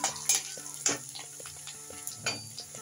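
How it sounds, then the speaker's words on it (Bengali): Onions fry in a pan with a soft sizzle under repeated stirring, a spoon clinking and scraping against the metal in uneven strokes; close and fairly quiet, no voices. "পেঁয়াজগুলো দেওয়ার পর একটু নাড়িয়ে চাড়িয়ে রাখবো।"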